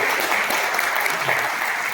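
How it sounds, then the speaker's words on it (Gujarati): Loud, dense applause fills a business networking meeting at the ABN Conclave 2026, a steady crowd clapping that holds for the whole stretch without letup. "એટલા માટે એક જોરદાર તાળીઓથી વધાવી"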